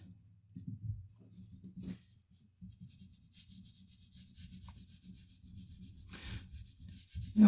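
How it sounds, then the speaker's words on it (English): An eraser rubs over paper to clear leftover pencil lines from a symmetrical mouth-and-teeth drawing, giving soft, close scrubbing strokes in short bursts with brief pauses between them. "And then we'll erase the excess."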